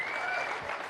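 A crowd at a political rally speech in Vemulawada breaks into dense, continuous applause, a loud close wash of many hands clapping.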